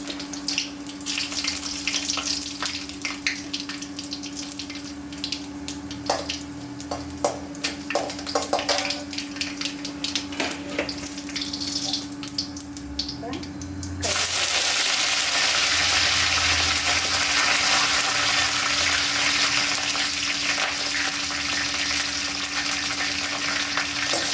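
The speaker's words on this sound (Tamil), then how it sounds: "வரமிளகா சேர்த்துக்கலாம்" Dried red chillies fry in hot oil for Chettinad idli upma, a close crackling sizzle broken by stirring scrapes over a low hum, then swelling into a louder, even hiss of frying.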